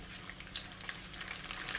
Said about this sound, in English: I've been frying this for about a minute and they are about done.